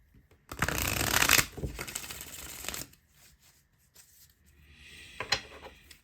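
Tarot cards being shuffled by hand for a pick-a-card reading, a loud dense riffle of about a second followed by softer card handling and slides, with a brief flick near the end.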